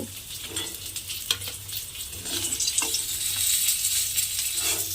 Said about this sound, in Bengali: এই তেলের মধ্যে আবারও আমি কিন্তু মাছগুলো দিয়ে সবকটা মাছ খুব ভালোভাবে আগে লাল করে ভেজে নেব